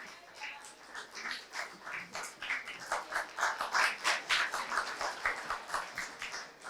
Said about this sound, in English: as an audience, let's give this debaters a round of applause